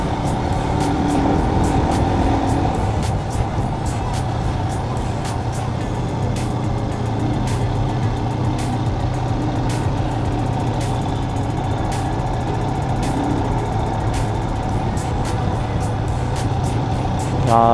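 Vehicles idle and crawl in a traffic jam on the mountain road from Shimla to Chitkul, a steady low engine rumble throughout with faint repeated ticks and beeps.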